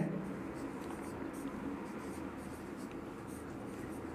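A pen scratches across paper as a Class 10 maths proof is written out, steady, close and soft, with faint strokes continuing throughout.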